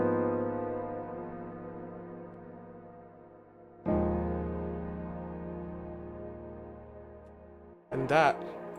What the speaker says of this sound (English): that is Valhalla Shimmer doing the heavy lifting